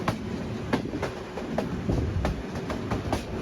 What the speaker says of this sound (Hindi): जहाँ अभी हमारी अवाम एक्सप्रेस पहुँच चुकी है